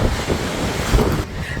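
Strong wind buffeting across the open deck of the P&O Arcadia cruise ship in rough, choppy seas, a loud rushing roar with gusty swells and no talk.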